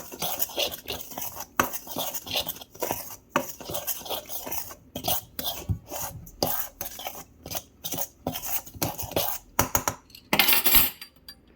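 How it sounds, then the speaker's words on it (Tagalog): Half a measure of sugar being stirred in a bowl with a utensil, giving quick irregular scraping clinks against the bowl, close and clear with no talking. "Half sugar. Mix lang natin guys."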